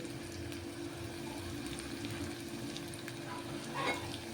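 Onions with turmeric fry in a pan, giving a steady, quiet sizzle with a low hum behind it and a brief stir near the end.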